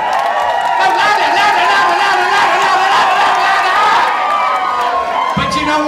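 A fetish club crowd at a fashion show in a cave venue applauds and whoops: a loud, steady wash of cheering, shouting and clapping that holds for about six seconds, with voices mixed in.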